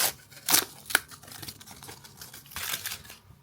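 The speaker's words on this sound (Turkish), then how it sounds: "Evet kağıt bantlarımızı yavaşça açıyoruz." Soft tearing and crinkling noises come in short bursts as paper tape is slowly peeled open, with quiet pauses between.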